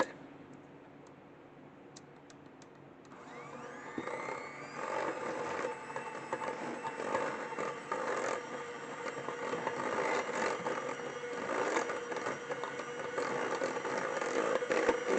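An electric mixer starts after about three seconds of near quiet and beats keto chocolate chip walnut cookie dough made with powdered sweetener, giving a steady close whirring drone with light rattles through to the end.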